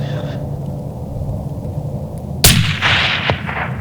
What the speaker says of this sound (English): made a fantastic shot, and the 28 nozzler put him down